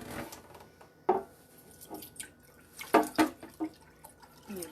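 Water is poured into a cooking pot, with splashing and dripping bursts in uneven spurts, moderately close, with no talking.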